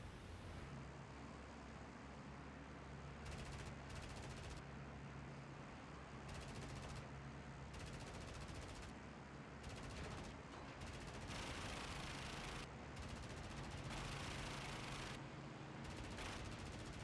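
Gunfire aimed at an He 111 bomber in the IL-2 Great Battles flight game: repeated bursts of rapid shots, lasting about a second each, break through the constant drone of the bomber's engines.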